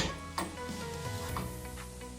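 Creamy scrambled eggs are stirred in a pan off the heat, with a steady soft sizzle and scraping running through the whole short stretch alongside faint clicks.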